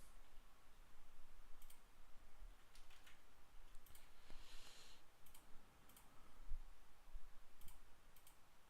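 Computer keyboards click and clatter quietly and continuously during a tournament match, with scattered sharper keystrokes and no talk.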